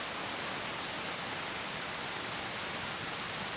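Rain falls steadily on a stream and puddles in Jeju, a dense, even hiss of drops on water that continues unchanged throughout, soft and enveloping with no voices.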